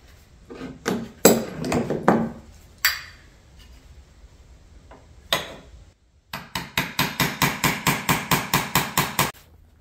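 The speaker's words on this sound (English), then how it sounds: "at this point it's just easier to just do it myself with the chisel." A hand chisel is struck again and again against a metal winch plate from a WARN XD9000i winch. Scattered sharp hammer blows come first, then a quick steady run of loud evenly spaced metallic strikes.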